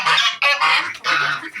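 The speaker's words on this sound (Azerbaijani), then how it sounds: "Dən atanda indi kürt oturan ördək və qazlar gələcək." Ducks and geese arriving at evening feeding make loud, continuous nasal honking and quacking calls, several overlapping bursts close by with brief gaps between them.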